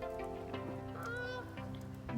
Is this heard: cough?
no